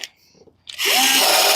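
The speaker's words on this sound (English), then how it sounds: "and throw in our rivet." A power tool sets a rivet while a gun tray is built for a duck boat: a brief click, then a loud, steady whirring drone close by for about a second.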